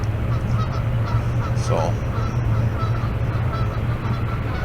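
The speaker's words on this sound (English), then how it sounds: "I'm surprised the dad goose isn't coming over here kicking my ass, but you can hear him right there" Goose honking outdoors, a male goose near a nesting mother goose, one brief honk standing out midway over steady low background hum and ambient noise, with a short word spoken.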